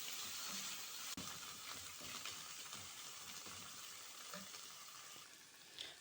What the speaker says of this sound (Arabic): كلهم راح احطهم وياه حتى احمسهم